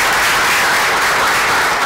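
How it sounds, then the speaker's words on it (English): An audience at a live masterclass event bursts into a round of applause: dense, steady clapping from many hands that fills the whole stretch at a loud, even level, with no voices on top. "round of applause"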